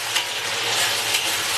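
Chopped scallions dropped into a hot wok with Sichuan yuxiang sauce, giving a loud, close, steady sizzling hiss with no voices.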